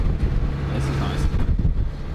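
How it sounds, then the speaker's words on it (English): Steady wind rumbles and buffets the microphone outdoors in Dorset in a low, continuous roar, with no clear voices over it. "I just think it's going to be too windy up on this bit"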